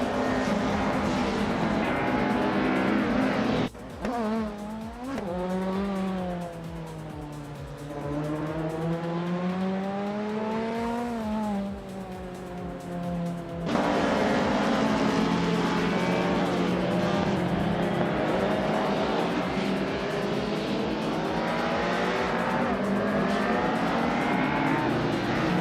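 Race cars, including a 1988 BMW 635CSi, race in a video game, engines whining and rising and falling in pitch through gear changes, with a loud steady roar and a sharp shift in sound partway through.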